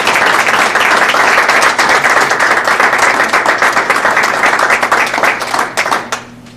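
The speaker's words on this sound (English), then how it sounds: "So join me in giving them a round of applause and congratulations." Audience applause at a Centerville Board of Education meeting, a dense steady patter of many clapping hands that holds for several seconds before thinning and fading out at the end.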